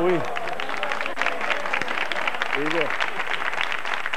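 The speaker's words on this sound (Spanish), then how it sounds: "Y para ella el aplauso" An audience applauds at a tribute to Rocío Jurado, a steady wash of clapping across the whole stretch with a voice talking and calling out over it.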